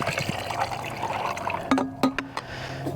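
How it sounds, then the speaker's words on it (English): Water pours and trickles into a cup nearby, a steady splashing fill punctuated by a few short clinks toward the end. "I'm gonna go pour this in my cup"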